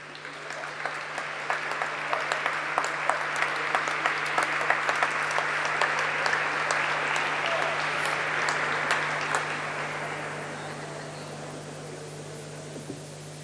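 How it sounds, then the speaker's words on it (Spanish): Warm applause from an audience at a Malvinas veterans' diploma ceremony swells to a dense, sustained wash of clapping, holding strong for several seconds before fading out to a few scattered claps, with a steady electrical hum underneath. "lo aplaudimos y con este caluroso aplauso también recibimos al siguiente distinguido"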